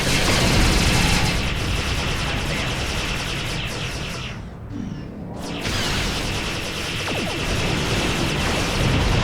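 Ship turrets firing continuously on a Romulan warbird in Star Trek Online, a loud, crackling barrage of rapid shots that briefly thins midway and then resumes at full intensity, with no talking.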